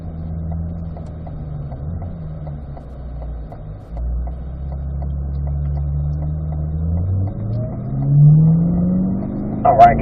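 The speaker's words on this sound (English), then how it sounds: "Jeff, you're going to slow down, follow in behind the ceramic 61." Corvette C8 race cars circle a track at a racing school, a steady engine drone with faint rhythmic ticking and rising revs toward the end. An instructor talks over it on the radio.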